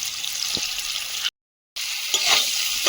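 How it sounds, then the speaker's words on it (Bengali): Pieces of teasel gourd (kakrol) fry in hot oil with a close, steady sizzle, broken by a brief total silence and then resuming with a few stirring scrapes. "তেলে কাঁকরোলটা দিয়ে দেব হলুদ গুঁড়ো নুন"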